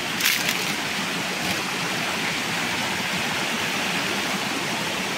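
Waterfall and stream water rushing steadily at a rural countryside creek among rocks, a continuous broadband roar filling the whole stretch with a few brief splashy bursts near the start and no talking.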